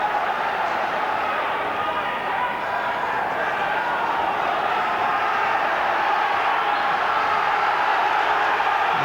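A boxing crowd roars for southpaw Gary Jacobs in his bout with Wilf Gentzen, a dense, loud, steady wall of cheering and shouting that fills the whole stretch without pause.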